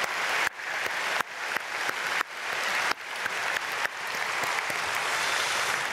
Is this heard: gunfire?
no